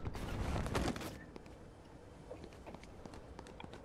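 Footsteps in the video game Fortnite, quick running steps pattering faintly under a busy game mix after a loud burst at the start.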